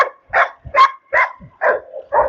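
A dog barks six times in a steady rhythm, each a short, moderately loud bark, close by and with no talking.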